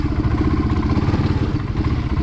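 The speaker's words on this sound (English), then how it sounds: "I also have the choke halfway on right now, just to like help the idle a little better" A motorcycle engine idles with its choke half on, a steady, loud, close rumble with rapid regular pulsing and some mechanical clatter throughout, no voices.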